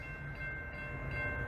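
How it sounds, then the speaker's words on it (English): A CSX work train passing in Watertown, New York, giving a steady, continuous rumble with a faint high tone held throughout, heard close by with no talk. "Oh, we got another one. This is the work train."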